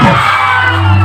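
Loud stage show crowd at a Bol Bam concert in Purnia shouting and whooping together in one short, dense burst, with a steady hum underneath.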